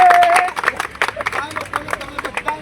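A crowd at a Bhil community gathering in Nadiad claps for a local leader: sharp, uneven claps and a scattered patter of hands amid murmuring voices and background chatter, following a brief tonal sound at the start.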